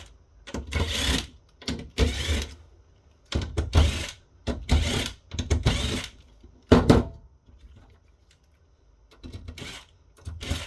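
A T15 Torx screwdriver backs out corner screws holding the stand of an HP Pavilion 23-p114 all-in-one PC, giving close, loud bursts of ratcheting clicks and scraping turns separated by short pauses.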